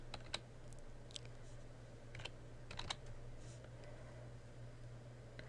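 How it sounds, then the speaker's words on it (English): Fingers tap irregular bursts of clicks on a computer keyboard, close and fairly quiet over a steady electrical hum, with no one speaking. "start typing the person's last name"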